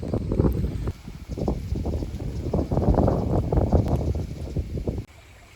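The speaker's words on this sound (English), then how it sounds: "Starting to get windy here, far north Queensland." Strong gusty wind in far north Queensland buffets the microphone in a steady roaring rush, easing off abruptly near the end.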